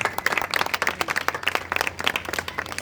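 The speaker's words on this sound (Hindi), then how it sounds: "हम तालियां बजाकर इनका स्वागत करते हैं" A church congregation at a revival meeting claps to welcome arriving family guests. The clapping is rapid and fairly sparse, with distinct individual claps in an irregular patter, moderately near and fairly quiet.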